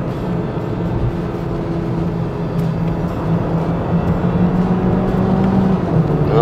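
A 1.5-litre Mazda CX-3 climbing a hill in third gear, its engine a steady, loud droning hum that rises slightly in pitch over the drive, heard from inside the cabin without talk.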